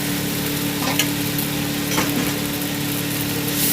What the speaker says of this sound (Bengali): এবার আমি এখানে দিয়ে দেবো ঘষে রাখা আমটা